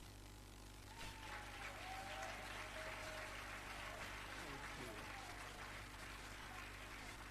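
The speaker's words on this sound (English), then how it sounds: "I think the applause can be louder than that." An audience applauds at the closing ceremony of the 2024 Teach For Nigeria Pre-Service Training Institute, a faint, steady wash of clapping heard from a distance for several seconds.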